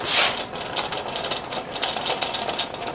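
A 1927 Saxmayer bundle tying machine running, its gears spinning in a steady mechanical whir with light rhythmic clatter, close and fairly loud with no talking.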